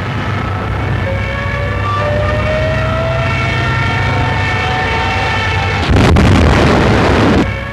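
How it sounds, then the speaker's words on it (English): Kamikaze planes crashing into American warships, in an archival wartime newsreel: sustained droning tones and a rising whine carry on steadily, then a loud, rough blast erupts near the end and rumbles on. "the kamikazes tried to crash their bomb-loaded planes right into American warships"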